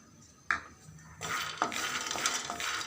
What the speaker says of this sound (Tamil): இந்த வேர்க்கடலை நல்லா ரோஸ்ட் ஆகணும்